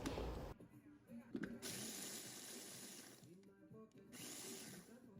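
A food processor crushing graham crackers for a lemon cheesecake makes a loud, steady grinding whir that cuts out briefly twice, then resumes.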